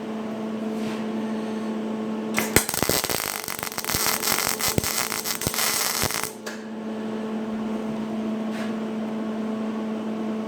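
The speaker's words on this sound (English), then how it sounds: "I'm going to run a bead on a seam on a butt weld" MIG welder running a bead on a sheet metal butt weld seam with wire speed turned down, a loud crackling, sputtering burst of about four seconds between quiet stretches of steady machine hum, no talk.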